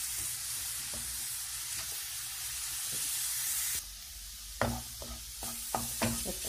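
Aubergine and potato sizzle steadily in a frying pan while a spoon stirs them, with several sharper scraping knocks toward the end; close and fairly loud, with no voices.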